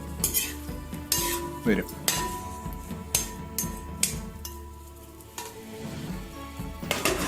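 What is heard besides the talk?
marinated chicken frying in a covered pan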